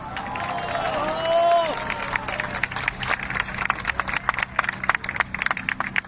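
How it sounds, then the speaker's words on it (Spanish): A crowd of marchers at an anti-AMLO protest in Mexico bursts into applause and cheering, starting under excited voices, then breaking into loud, uneven, sharp clapping close by. "Un aplauso fuerte para Jorge, por favor"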